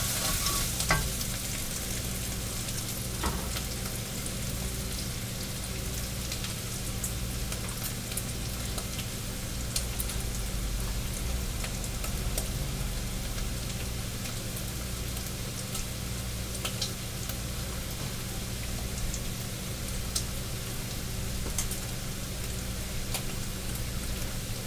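Corn chowder simmers and bubbles in a pot, a steady close sizzling and popping texture with occasional sharper clicks, continuous and even throughout, no voices.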